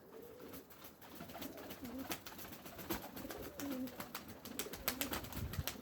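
Soft, repeated pigeon coos sit under a busy outdoor background of scattered chirps and clicks, moderately distant and fairly quiet.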